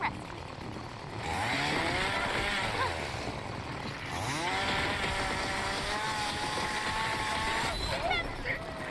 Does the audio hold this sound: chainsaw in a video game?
yes